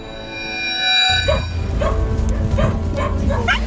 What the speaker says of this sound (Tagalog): tumambad ang 3 aso na takot at nanghihina